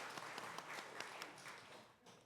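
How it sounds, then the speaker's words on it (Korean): Church congregation applauding during a Korean Sunday worship sermon, fairly faint and distant clapping with a few sharper individual claps standing out, tapering off toward the end. "박수 한번 쳐줄까요?"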